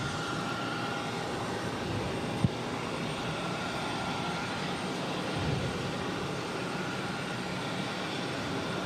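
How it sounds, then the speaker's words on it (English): A Bombardier Challenger 300 business jet taking off, heard as a steady, distant broadband roar with a faint whine that holds level throughout, with no talk over it. "This Bombardier Challenger 300 is taking off to Chicago Executive Airport"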